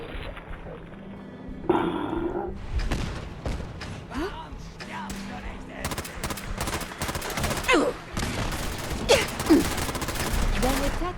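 Gunfire in the Fallout 4 video game: scattered bursts and single shots of varying loudness, some near and sharp, others softer, with game dialogue voices heard between and under the shots.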